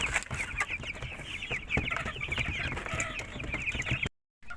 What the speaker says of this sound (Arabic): فتحت الفراخ البيضه